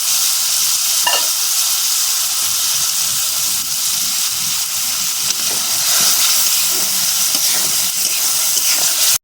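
Spice paste frying in oil in a pan while cooking an Aloo Phulkopir Dalna (potato and cauliflower curry): a steady, loud, continuous sizzle and hiss fills the whole stretch, with faint stirring scrapes now and then.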